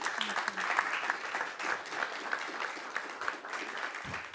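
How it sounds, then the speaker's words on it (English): An audience applauds a conference panel on city–industry alliances for climate neutrality, a steady wash of many hands clapping with a faint voice briefly heard underneath. "I want to ask a huge round of applause for our amazing panel."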